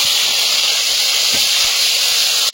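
Dried chillies, whole cumin and ginger-green chilli paste sizzle in hot oil in a wok, a loud steady hiss with no letup.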